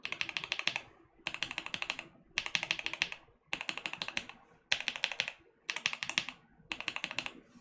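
A mechanical keyboard with a freshly swapped key switch is typed on in seven quick bursts of crisp, close clacking keystrokes separated by short pauses, fairly quiet overall.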